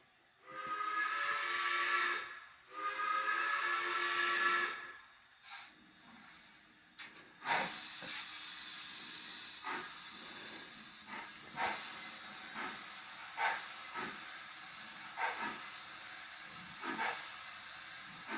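A model railway steam locomotive, a Broadway Limited 2-8-0 with a TCS WOW sound decoder, blows two long whistle blasts over steady steam hiss. It then settles into rhythmic chuffing with sharp periodic clanks and puffs.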